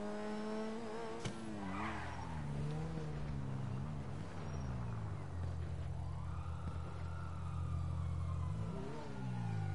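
Ferrari and Lamborghini sports cars race in GTA V, engines revving loudly and shifting pitch up and down, with tire skids and squeals over a constant, close roar and no talking.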